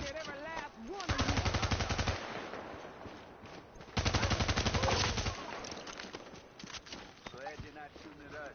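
Automatic gunfire in the video game The Division sounds in two sustained rapid bursts, loud and close, while players talk over and between them.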